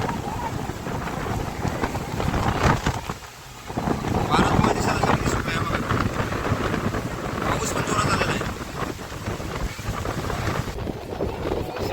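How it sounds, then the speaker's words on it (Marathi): Heavy rain roars continuously while gusts of wind buffet the microphone, loud and close throughout. "जाम जोरात पाऊस आहे, पाऊस वारा पण सुटला जाम"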